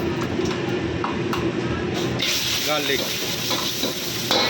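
Garlic and ginger frying in hot oil: a continuous, close sizzle with crackling and scraping stir noises runs throughout at a steady level, with no talk over it.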